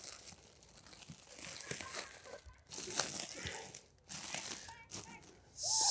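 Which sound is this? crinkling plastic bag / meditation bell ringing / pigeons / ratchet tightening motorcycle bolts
crinkling plastic bag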